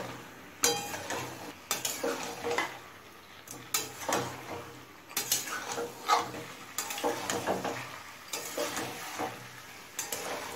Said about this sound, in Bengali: এবার এই সমস্ত কিছু মিডিয়াম ফ্লেমে খুব ভালোভাবে কষিয়ে নেব।